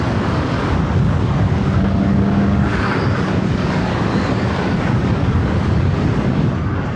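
A CFMOTO 750SR-S motorcycle rides along in third gear with the throttle closed, its engine drone buried in constant roaring wind rush across the whole stretch.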